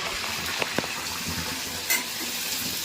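Food fries in a pan with a steady, close sizzling hiss, a couple of brief utensil taps and a short louder burst near the end, no talking.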